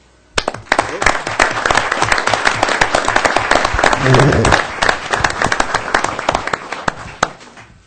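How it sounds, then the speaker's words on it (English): A room full of people at a city council meeting breaks into sustained applause that builds quickly, holds for several seconds, then tapers off into a few scattered claps. "I would like to give you a round of applause"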